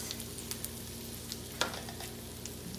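Breakfast potatoes sizzling in a hot pan, a steady crackling fry with small scrapes and one sharper clatter as the pieces are flipped and moved around; no voices.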